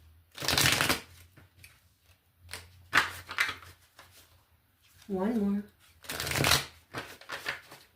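Tarot cards being riffled and shuffled in several brisk bursts, close and crisp, with a person talking between the shuffles.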